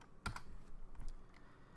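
A few quick keystrokes on a computer keyboard while entering an offset value in 3D modeling software: two close taps, then a couple of softer presses, quiet and near, with no talking.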